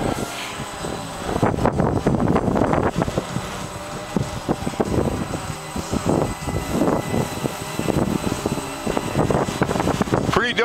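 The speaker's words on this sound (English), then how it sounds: "Pretty doggone windy" Strong gusty wind buffets a microphone outdoors, roaring loudly and continuously alongside the whine of an eight-motor Walkera QR SpaceWalker octocopter hovering nearby, with someone talking over it.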